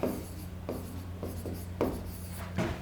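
Writing strokes on a classroom board during an English grammar lesson for exam preparation, heard as a series of short, scratchy marks in an uneven rhythm over a low steady hum, with no talking.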